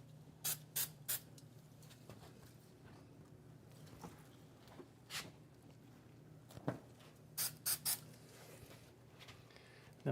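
A spray bottle gives several short, quiet spritzes in clusters of two and three onto van sliding door upholstery, each a brief hiss over a faint room background with no talking.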